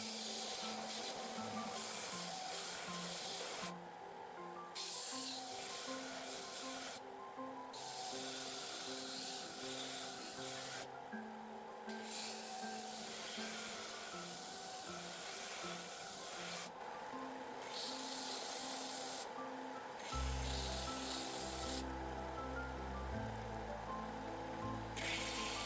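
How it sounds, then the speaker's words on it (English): A wooden spatula blade being shaped on a belt sander, with a steady close abrasive rubbing and rasping that pauses briefly several times and shifts in pitch near the end. "I now refine it to the final form on the belt sander."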